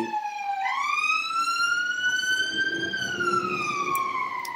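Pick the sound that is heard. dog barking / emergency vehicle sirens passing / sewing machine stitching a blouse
emergency vehicle sirens passing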